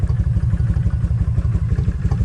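Kawasaki Vulcan 1600 V-twin motorcycle idling as it warms up, a loud, close, steady low lumpy pulse with light mechanical clatter and no voices.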